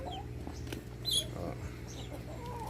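Rhode Island chickens clucking while they wait to be fed, a few short clucks and calls over a low steady background hum, fairly close and moderately quiet.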